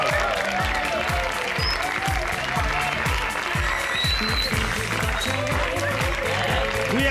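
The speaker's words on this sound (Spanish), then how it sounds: "fuerte el aplauso" Audience applause at a pageant-style crowning ceremony, steady clapping running throughout beneath music with a rhythmic beat and voices, fairly loud and continuous.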